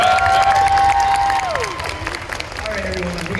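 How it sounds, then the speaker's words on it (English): A convention crowd at a Nostalgia Con Anaheim 2025 Avatar: The Last Airbender panel claps and cheers loudly, with sustained tones gliding down beneath the noise as the applause gradually softens. "Round of applause,"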